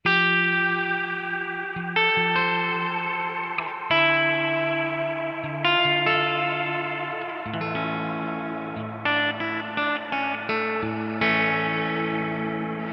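Eventide H90 pedal running the Wormhole reverb with its warp control engaged, swelling a guitar into a loud, washy, pitch-bending cinematic wash as chords strike every couple of seconds and smear into long, shimmering tails.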